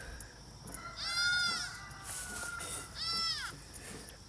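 Goats bleat in a farm goat pen, two clear drawn-out bleats about two seconds apart over a quiet outdoor background, with a faint voice in between.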